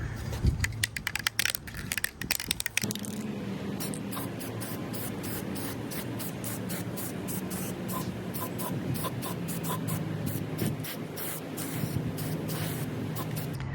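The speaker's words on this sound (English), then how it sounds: "I'm gonna start by spray painting the bottom first and then let that dry" Close, sharp hissing bursts from an aerosol spray can, following a stretch of rattling handling noise, repeated in short rhythmic sprays with no talking.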